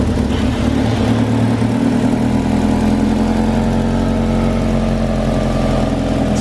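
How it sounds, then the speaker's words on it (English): A Mitsubishi Eclipse GSX engine idles steadily and close by with a low, even rumble and a faint puffing exhaust leak, holding a constant level throughout with no voices. "Sounds like it has a slight exhaust leak also,"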